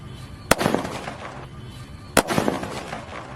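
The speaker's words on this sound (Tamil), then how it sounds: "வனிதா பிராண்ட்லேருந்து பாம் அப்படின்னு சொல்லிட்டு இந்த வீடியோ ட்ரை பண்ண போகிறோம்" Two sharp Vanitha brand bomb firecracker blasts go off about a second and a half apart, each a loud crack followed by a crackling, rumbling tail, outdoors with no talk.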